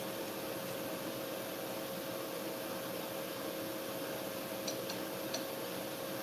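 Welding a nut onto a bolt, heard as a steady loud buzzing hiss with a constant tone running throughout, and a few faint ticks near the end.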